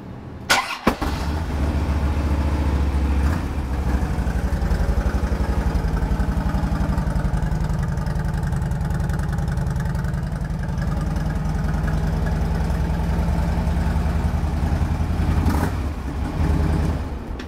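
A 2008 Harley-Davidson Road King Classic, a stock bike with a 96 engine, fires up and settles into a loud, close, steady idle with a deep rumbling lope that holds evenly to the end with no voices.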